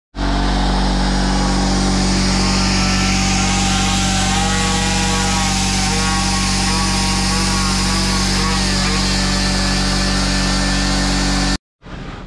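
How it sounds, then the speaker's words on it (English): A whiz tool grinds a pulley flat on a Subaru Forester STI build, a loud continuous high-pitched grinding whine that runs steadily for about eleven seconds and then cuts off abruptly. "use a whiz tool and grind it down"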